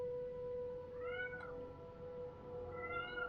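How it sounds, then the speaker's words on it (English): A pet cat meows twice, close and clear, with drawn-out rising cries separated by a pause over a steady faint background tone. "My cat may have trapped herself somewhere."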